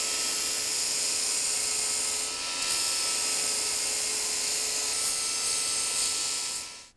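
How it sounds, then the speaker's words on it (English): A grinder whines steadily at high pitch while shaping a horseshoe, loud and continuous for several seconds before cutting off at the end. "Next step is final shaping with the grinder."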